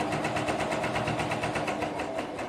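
A sewing machine stitches a seam on a crop tank top, its needle running in a fast, steady, even rhythm that stays close and loud without a break.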